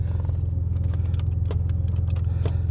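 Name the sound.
Maserati engine running after being submerged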